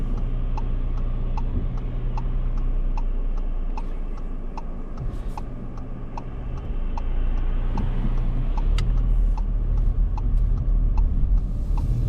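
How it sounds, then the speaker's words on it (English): Cars passing on a road in West Wickham, heard from inside a waiting vehicle as a steady rumble of traffic with a regular indicator tick-tock clicking throughout, the passing swells near and loud. "Wait for a couple of cars."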